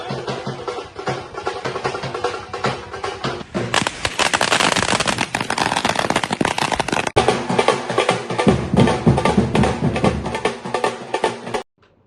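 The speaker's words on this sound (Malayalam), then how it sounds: "പടക്കം പൊട്ടിച്ചും പ്രവർത്തകർ ആഹ്ലാദം രേഖപ്പെടുത്തി" Firecrackers set off by party workers at a UDF swearing-in celebration in Kerala burst in a dense, continuous crackling barrage, loud and unbroken for several seconds before cutting off.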